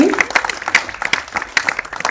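Claps sound from an audience at the trailer launch of the Hindi film Kissa Court Kachehari Ka. They come fairly close in a brisk, uneven run, with voices mixed into the clapping throughout.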